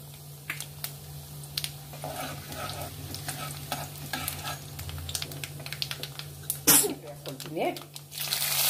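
Cumin seeds, chana dal and urad dal frying in hot oil in a pan while being stirred for idli upma: a steady soft sizzle with scraping spoon strokes and a few sharper clinks, recorded close up.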